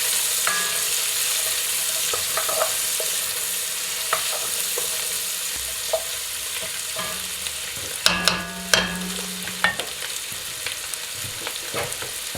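Onion and garlic browning in a pan over high heat, a constant strong sizzle with occasional stirring knocks and a brief cluster of utensil clatter midway, close and steady, no speech.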